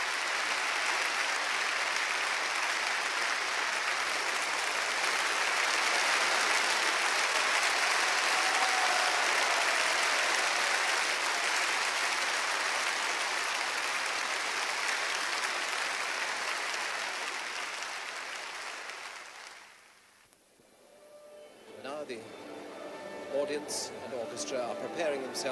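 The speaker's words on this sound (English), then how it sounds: "Stokowski has just come back onto the platform to acknowledge his applause for what was undoubtedly a stunning performance of Beethoven's Fifth Symphony" Sustained applause from a concert hall audience at the London Philharmonic in 1969, honouring Stokowski after Beethoven's Fifth Symphony: dense, steady clapping for about twenty seconds, then fading to quiet with a few scattered claps and rustles.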